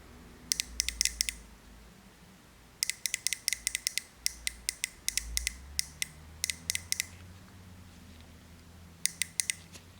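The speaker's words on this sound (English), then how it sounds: "You're going to hear a clicking, and that's just the injector opening on and off." Automotive fuel injector on bench power, its armature snapping open and shut in quick bursts of sharp, close clicks separated by short pauses, faint and with no talk.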